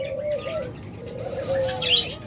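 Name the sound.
red-eyed dove cooing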